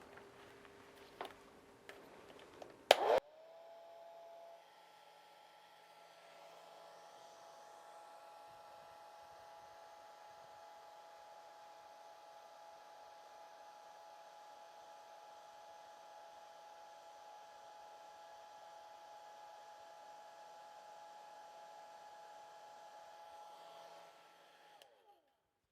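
A hair dryer is used to dry a watercolor painting of a goldfinch. After a few taps it switches on with a click and whirs in a steady, even hum for about twenty seconds before cutting off.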